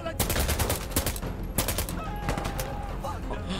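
Rapid bursts of gunfire crackle in a video game, several volleys of shots in quick succession over a loud, busy game mix.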